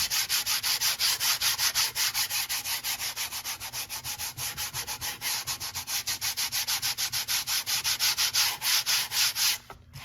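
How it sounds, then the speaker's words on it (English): Light sanding across a textured hard plastic dashboard repair, with steady rapid back-and-forth rubbing strokes close up, continuous and fairly loud for the whole span before stopping abruptly at the end, no voices. "you just lightly sand over it."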